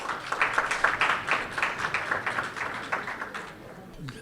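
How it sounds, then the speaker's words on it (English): Annual dinner audience of the UK Pakistan Chamber of Commerce clapping, a lively spread of hand claps from a fairly small crowd that gradually thins out toward the end. "please give him a round of applause"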